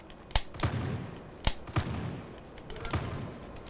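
Several sharp gunshots crack in a video game, spaced irregularly about a second apart, each followed by a short echoing tail over faint background ambience.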